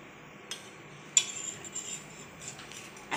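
Eggs with salt being beaten for an omelette, a few light, irregular clinks of utensil against bowl, fairly quiet with no talk.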